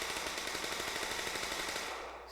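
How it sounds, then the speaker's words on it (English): Rapid successive gunshots in a visual novel game, a dense, continuous burst of automatic fire filling the scene and tailing off at the end. "Suddenly there was a sound of gunshots."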